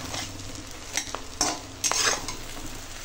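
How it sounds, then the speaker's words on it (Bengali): Fish roe fritters frying in a pan, giving a steady low sizzle with a few brief scraping stirs, close and moderately quiet, with no voices. "তো এখন মাছের ডিমের বড়াগুলো সব ভেজে নিই।"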